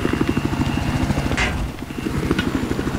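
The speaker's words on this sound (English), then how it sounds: "I hear like a jet something." A jet aircraft circles overhead in Battlefield 4, heard as a continuous throbbing engine drone with pulsing harmonics, fairly loud and steady throughout.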